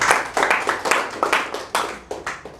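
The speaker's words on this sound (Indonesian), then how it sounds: "tepuk tangan dulu untuk kelompok 1" A small classroom group claps for the first group after its presentation, a brisk round of hand claps with several sharp bursts repeating steadily and close by.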